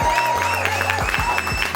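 Crowd at a live music session giving a round of applause, a short, close burst of clapping under a faint tonal background.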